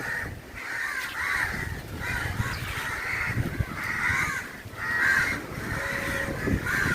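Several crows caw over and over in harsh, overlapping calls, a steady chorus outdoors at Thirumullavaram Beach with background noise and no voices.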